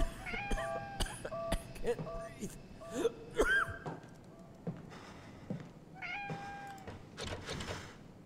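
A cat meows repeatedly in the horror game Conarium, short tonal cries scattered among clicks, knocks and eerie ambient game sounds, moderately close, with no talk over it.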